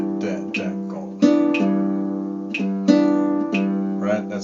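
A guitar plays a 3 against 5 polyrhythm, with repeated plucked chords and notes falling in an interlocking pattern of accents over a few seconds, ringing close and clear, with no talking.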